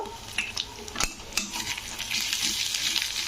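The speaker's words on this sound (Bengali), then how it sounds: "তো আদা রসুনের পেস্টটাকে নাড়তে হবে" Ginger-garlic paste being stirred in a pan while cooking matar paneer, with soft scraping strokes and a steady, close sizzle of frying underneath, including one sharper clink of a utensil against the pan.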